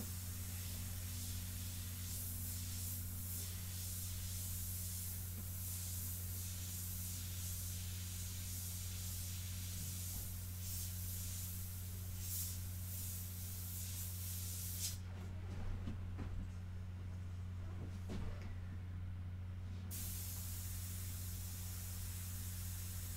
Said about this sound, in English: we are going back with our airbrush and pulling out some of these really nice dark accents